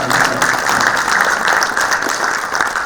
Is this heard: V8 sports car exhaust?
no